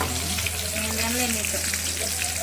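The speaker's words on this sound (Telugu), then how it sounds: "ఆనియన్స్ అయితే బాగా ఫ్రై చేసేసుకున్నాం" Onions frying in oil on a gas stove for a chicken curry, a steady dense sizzle filling the whole stretch at close range, with faint voices murmuring underneath.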